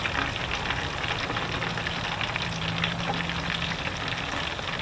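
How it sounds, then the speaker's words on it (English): Hot oil dripping and sizzling off a freshly deep fried turkey, a soft continuous crackle and hiss like light rain, steady and fairly faint with no talk. "You just be patient and let all the oil drain off."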